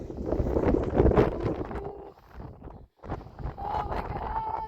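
Strong wind gusts across a cliff top at Mesa Verde National Park, buffeting the microphone with a loud, rumbling roar that briefly drops to a near lull before surging back.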